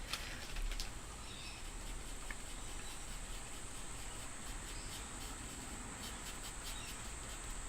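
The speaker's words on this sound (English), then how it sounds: "Oh my gosh, can you hear the crickets now?" Steady, high-pitched insect chirring fills the background throughout, a dense continuous buzz of crickets with faint low rumble beneath.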